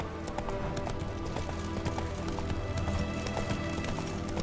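Roach the horse gallops in The Witcher 3, rapid rhythmic hoofbeats pounding steadily under a brief whinny, close and continuous with game ambience behind.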